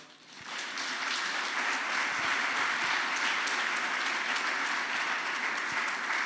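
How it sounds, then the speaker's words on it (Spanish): Church congregation applauding during a Spanish-language sermon, a broad steady wash of clapping that swells in quickly and holds loud and even throughout, with no talk over it. "¿Por qué no le da un aplauso al Señor?"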